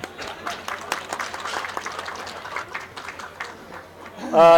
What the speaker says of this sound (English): Big applause, we welcome them all to the MFA